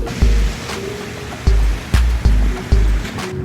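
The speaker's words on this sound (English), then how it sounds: "You hear the waves crashing against the rock." Ocean waves crash against the rocks at a seaside park in Miami, Florida, in five heavy, booming surges over a steady rushing wash of surf.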